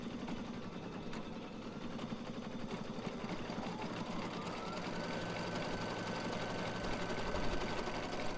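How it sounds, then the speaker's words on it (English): A sewing machine quilting runs with a continuous close mechanical hum and fast needle rattle, steady throughout with a slight rise near the end. "Looks like Leslie's already started quilting."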